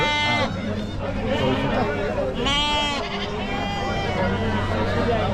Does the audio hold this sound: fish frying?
no